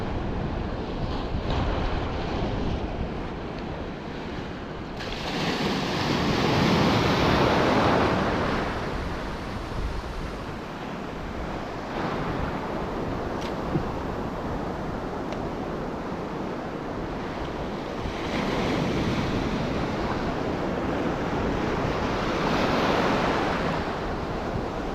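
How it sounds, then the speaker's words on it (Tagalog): Big ocean waves surge and crash at sea during a fishing trip, a broad roaring wash that swells in repeated waves over steady wind buffeting the microphone, with no voices. "Grabe yung alon talaga."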